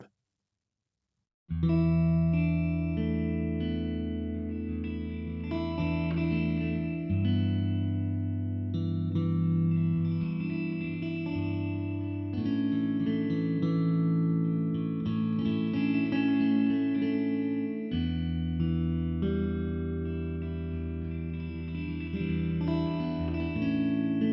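Sustained, evolving tones from the Afterglow sample library play through a vintage-style signal with a bit of reverb, layered chords shifting slowly and continuously with a warm, washed tail.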